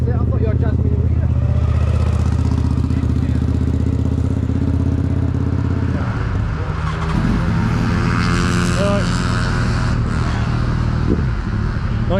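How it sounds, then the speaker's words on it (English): Loud engines rumble and rev close by as motorbikes pass, including a Royal Enfield Super Meteor, the roar shifting in pitch, with voices talking over the din. "Noisy motorbikes"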